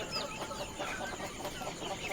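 A flock of free-range village chickens on a poultry farm clucks and murmurs continuously, fairly faint and somewhat distant, with overlapping calls.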